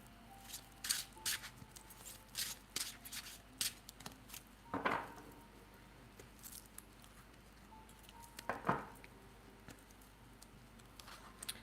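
Golden Leaf tarot cards being shuffled and handled at a reading, giving soft papery riffles and slaps in scattered bursts with a few louder flicks, close and fairly quiet with no talk.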